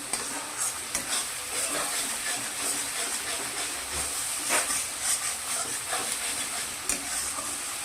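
Spices sauté in a pan for katla fish kalia with a constant close sizzling hiss, with occasional scrapes and taps from stirring throughout.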